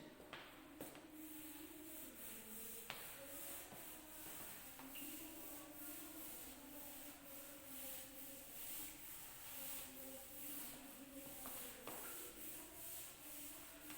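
Chalk or duster rubbing across a classroom board, a steady scraping swish that repeats in short strokes for the whole stretch, fairly close and alone with no voices.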